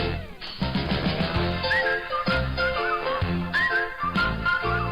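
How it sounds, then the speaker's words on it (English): A person whistles a melodic tune along with a TV show theme playing, clear warbling notes over the music's rich, steady backing. "We're almost to the part of where I start to whistle."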